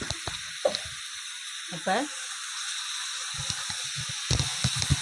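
Washed raw chicken pieces for a pepper chicken gravy go into a hot pan and give off a steady, bright sizzling hiss that runs under a person talking.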